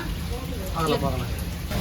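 Steady heavy rain hisses throughout, with faint voices talking under the downpour.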